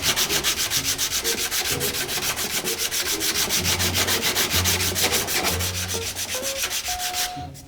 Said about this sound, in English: it is always easier to do the sanding with the sanding block and the sandpaper